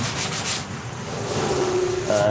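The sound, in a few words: sanding a surface with fine-grit sandpaper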